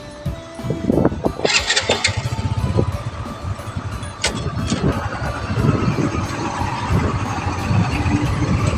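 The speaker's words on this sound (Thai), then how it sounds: "เดี๋ยวรอรถสะก่อนจักหน่อยพี่น้องรถใหญ่กำลังมา" A large vehicle approaches along a busy market road in Uthumphone, Savannakhet, Laos, its engine rumbling louder and steady beneath the bustle and chatter of the market crowd.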